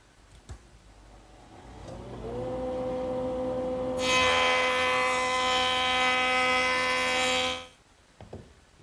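A power planer spins up and hums steadily, then bites into the edge of a curved wooden rail blank for a DIY console table, giving a loud, bright whine for several seconds before cutting off sharply.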